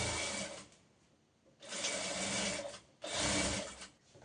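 A sewing machine stitching the lining of a front-open padded princess-cut blouse runs in three bursts, each lasting about a second or more, with short pauses between them, close and clear with no talk.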